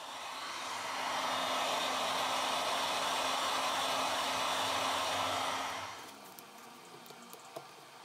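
A heat gun or hair dryer blows hot air onto a Samsung Tab A T580 tablet screen for a few seconds, a loud steady whoosh that then cuts off, leaving faint clicks and handling noises.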